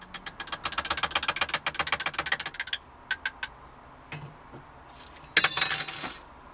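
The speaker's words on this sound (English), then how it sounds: "I keep dropping the spoon" A metal spoon drops and clatters while tea is being made in an allotment shed after dark, a rapid burst of bright clinks followed by a few scattered taps and a final jangle, close and loud.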